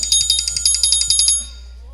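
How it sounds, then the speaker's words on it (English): A phone alarm sounding as a medication reminder, a loud, bright repeating electronic beep pattern pulsing rapidly for about a second and a half before cutting off, heard alone and close. "My bad, my alarm's going off."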